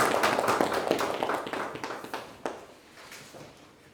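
A church congregation claps to welcome new members at a Sunday morning service, the applause dense at first and then thinning into scattered claps as it dies away.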